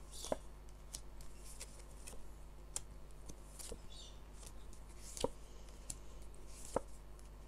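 Tarot cards being drawn and shuffled from a deck, a faint papery sequence of soft taps and slides with a few sharper snaps, quiet and close.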